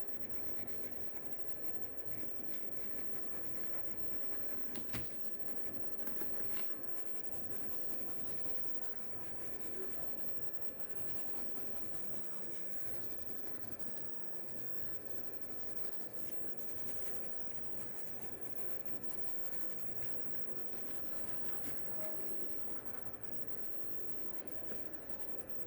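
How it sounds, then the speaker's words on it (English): Prismacolor colored pencil drawing on paper, a steady soft scratching and rubbing of the pencil tip that runs on continuously and close up, with faint background hiss and no talking. "I am using Prisma color pencil"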